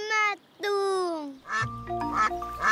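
A duck quacks in several nasal, harmonic calls, close by, mixed with a voice and some background tinkling.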